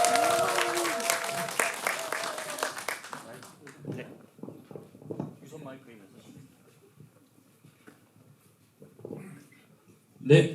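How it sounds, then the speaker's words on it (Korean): Brief applause from a cinema audience at a film festival talk opens loudly, then fades within a few seconds into scattered claps and footsteps, with people speaking over the quieter stretch. "박수로 부탁드립니다"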